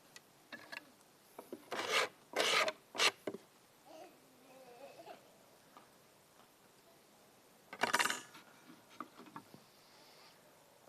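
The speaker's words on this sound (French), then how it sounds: "Je viens de finir de limer, émeriser et polir un bout de ferraille" Hand filing, emery sanding and polishing of a small piece of scrap metal, heard as several short, close rasping strokes in bursts with quiet gaps between them.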